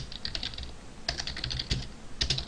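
Computer keyboard typing during Java game programming, a quick run of key clicks, a pause, then two more bursts of rapid keystrokes, close and clear with no talk.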